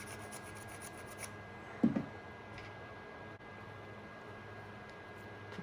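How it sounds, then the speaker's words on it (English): A drill bit twisted by hand to ream out a hole in a broken lexan RC car body, giving a quiet, close, steady rasping scrape with a brief louder knock partway through. "I'll take a drill bit and kind of ream it"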